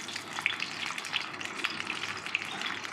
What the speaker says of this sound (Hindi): तो नगेट्स को इसी तरह हम फ्राई कर लेंगे।